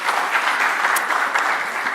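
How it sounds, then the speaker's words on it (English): An audience at a children's devolution conference claps steadily, a dense, even patter of applause sustained throughout, with no talk. "Please give a round of applause."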